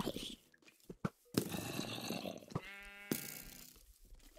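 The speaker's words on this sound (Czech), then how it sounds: "to je ovce, dobře." Sheep bleating in the Minecraft video game, several clear game bleats standing out over a busy layered background of game sounds, with one prominent tonal bleat near the end.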